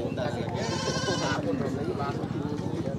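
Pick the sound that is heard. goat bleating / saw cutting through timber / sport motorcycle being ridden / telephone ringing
goat bleating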